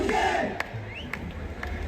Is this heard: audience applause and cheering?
yes